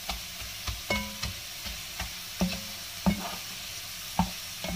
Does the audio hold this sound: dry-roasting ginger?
yes